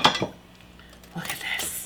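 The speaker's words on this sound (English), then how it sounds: "Should we cut it open?" Knife and cutlery clinking against a plate while a hot grilled cheese sandwich on rye is cut open, a sharp clatter at the start followed by a quieter pause and then a run of scraping and clinking.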